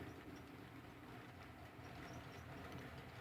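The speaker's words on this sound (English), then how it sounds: "With clearance to leave, the train gets underway" A Boston and Maine passenger train with two milk cars and three passenger cars rolls steadily along the rails, a continuous low rumble with faint rhythmic clatter from the wheels, heard from nearby.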